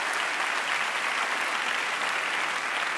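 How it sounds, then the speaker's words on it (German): Live audience at the Swiss Comedy Awards 2022 bursting into steady, dense applause that fills the whole stretch at an even level, with no talking on top. "da dürft ihr klatschen"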